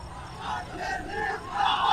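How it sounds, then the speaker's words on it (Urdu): A large crowd at a political speech raises loud chanted slogans and battle cries, a dense roar of many voices swelling and surging throughout. "نعرے لگائیں گے بعد میں"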